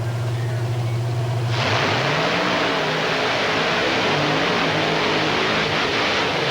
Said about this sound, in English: the longer the motor runs on alcohol, the more heat it's going to build